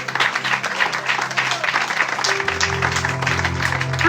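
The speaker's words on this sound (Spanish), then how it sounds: "Yo que a ustedes le doy un fuerte aplauso a Dios" Loud, sustained applause from a church congregation during a service, dense steady clapping with a low hum of voices and tones underneath.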